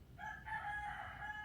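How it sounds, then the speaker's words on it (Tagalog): A rooster crows once at moderate distance in a backyard in the Philippines in the early morning, a single drawn-out call over quiet background. "Yung ingay ng mga manok."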